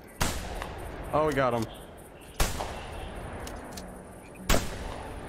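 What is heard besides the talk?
gunshots while duck hunting in the video game theHunter Classic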